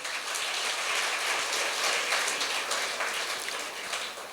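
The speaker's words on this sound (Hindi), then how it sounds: "तो एक बार डबल तालियां हो जाएं" A large audience claps together in a dense, sustained burst of applause at a birthday celebration in a hall, steady and loud throughout with no pauses.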